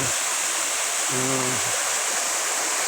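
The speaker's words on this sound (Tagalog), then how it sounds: "Ito ang RRB Falls." A waterfall at a river falls roars as a loud, steady rushing wash of water close by, with a brief voice heard faintly underneath.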